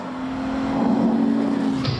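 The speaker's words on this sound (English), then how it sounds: "And listen to that V12." Heavy V12-engined car on a fast racing lap around a test track, a steady sustained engine drone holding a constant pitch under load before cutting off near the end.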